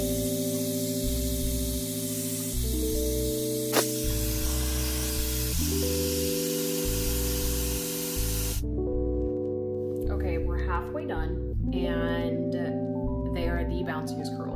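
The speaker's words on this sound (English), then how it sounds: "Let it blow some cool air for a few seconds." Steady broadband airflow from a Webeauty Wechip 5-in-1 hair dryer blowing cool air, a constant whoosh over background music for about nine seconds before a voice begins talking.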